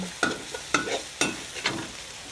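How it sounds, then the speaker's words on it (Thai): Catfish stir-fried with red curry paste in a Thai kitchen: four rhythmic spatula scrapes against the pan over a continuous close sizzle. "ผัดให้หอม"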